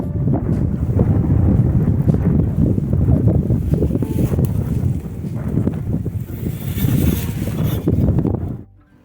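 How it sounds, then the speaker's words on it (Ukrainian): Strong gusty wind buffets the microphone in a loud, continuous roar with rumbling surges, cutting off abruptly at the end. "але дуже вітряно. Ось послухайте, який звук."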